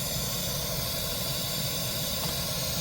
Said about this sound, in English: this is the pink noise generated from Open Sound Meter